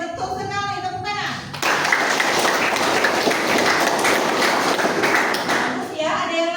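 A classroom of students breaks into applause, a dense burst of clapping lasting about four seconds, with speech before and after it.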